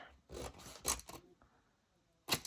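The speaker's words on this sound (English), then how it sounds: "Come on, scissors, work." Scissors snip through paper or card during a craft build, a few quick crisp cuts in a burst, a pause, then one more close, sharp snip.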